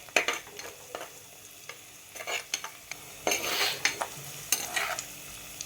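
Prawn gravy sautés in a pan, a soft sizzle under repeated scraping and clinking of a spoon stirring, close and uneven in rhythm.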